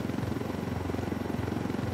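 Helicopter in the video game Narco Roads: a steady, fast rhythmic rotor thump with a low engine drone, continuous and up close, without any voices.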